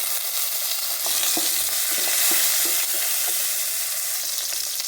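Chillies and peas drop into a hot tempering of asafoetida, cinnamon and curry leaves, giving a loud, continuous close sizzle and fry with light stirring clicks throughout.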